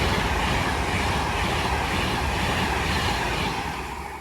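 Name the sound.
Avanti West Coast train to Liverpool at Watford Junction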